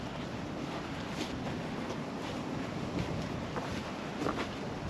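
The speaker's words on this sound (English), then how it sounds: "It's so windy, so if you can't hear me because of the wind, I do apologise." Strong wind buffeting the microphone outdoors, a continuous rough rumble with gusty swells and no clear voices.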